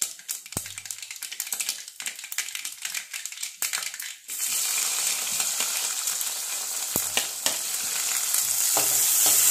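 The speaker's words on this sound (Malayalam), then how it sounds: "കടുക് പൊട്ടി" Mustard seeds splutter in hot oil in a home kitchen, starting as sparse quiet pops and clicks, then breaking into a steady, loud, crackling sizzle that holds for several seconds with no voices.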